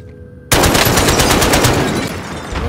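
Sustained automatic machine gun fire in the Call of Duty Warzone video game, a loud, rapid, continuous burst that starts abruptly after a brief quiet moment.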